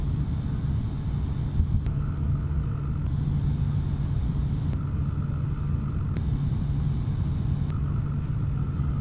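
Close-miked Corsair SF600 or Cooler Master V650 SFX power supply fan producing a steady, loud whooshing hum with a low tonal drone, plus a faint periodic high whine switching on and off.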